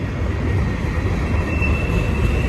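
A BNSF freight train rolls past at Cajon Pass, a steady, heavy rumble of wheels on rail with a faint high squeal running through, close and continuous with no voices.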